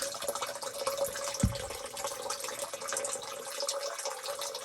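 Water from a mountain spring spills from an overflowing inlet pipe among rocks, a soft, steady trickle and splash heard at a distance, quiet and continuous, with one brief low thump.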